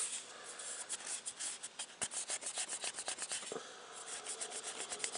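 A fingertip rubs over laser-marked steel in quick, rhythmic back-and-forth strokes, a soft close scratchy friction that continues throughout without any voices.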